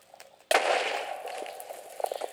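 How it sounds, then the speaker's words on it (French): Explosion like a creeper blast in the video game Minecraft, a sudden sharp bang followed by a decaying rumbling hiss that fades over about two seconds, with faint small clicks afterward. "Il y a un truc qui explose comme les creepers, mais c'est invisible."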